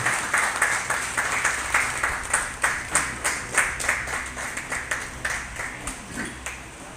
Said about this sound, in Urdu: دوستوں سے درخواست کروں گا اسٹینڈنگ اوویشن سب کے لیے بھرپور تالیوں کے ساتھ